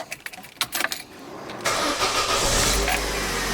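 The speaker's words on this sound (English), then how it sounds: "should we start her up and see what she sounds like?" A modified Vauxhall Corsa B engine cranks with a few uneven turns, then catches and settles into a loud, raspy idle close by.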